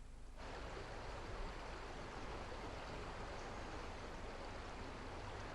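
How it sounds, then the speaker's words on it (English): A flowing stream at an automatic gauging station rushes in a steady, broad wash of water noise, constant and fairly close, with no voices. "this stream is monitored by an automatic gauging station"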